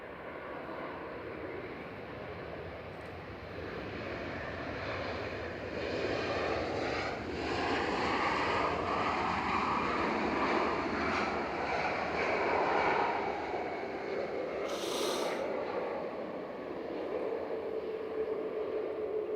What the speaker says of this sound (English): EasyJet 7851 from Amsterdam, OE LSI A320 Neo